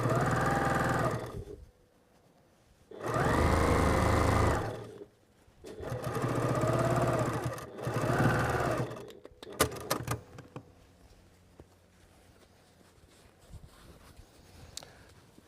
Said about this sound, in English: we're just going around and sewing the base into place